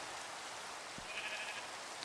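A sheep in a desert-island survival video game gives one brief, faint bleat over a steady hiss like rain.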